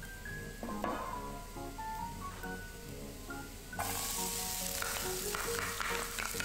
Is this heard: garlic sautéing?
yes